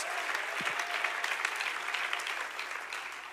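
A church congregation of Bible college students and young ministers claps hands in a steady, fairly faint wash of applause, with a brief voice sounding early on.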